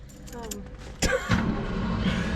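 A 1971 Ford Mustang that runs rough, with keys jangling, then the engine cranking and catching with a loud burst before settling into a steady, uneven idle close by.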